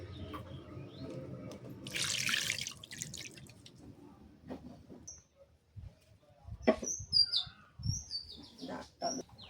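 Water is poured into a pot of kochur loti (taro stolon) curry with jackfruit seeds as it cooks. A short splashy pour comes first, then scattered drips and light clinks, with faint bird chirps in the background.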